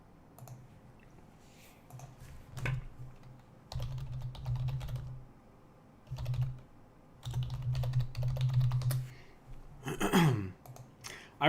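Bursts of typing on a computer keyboard while logging in, close and clicky, coming in short irregular runs broken by brief pauses, with a sigh-like breath near the end.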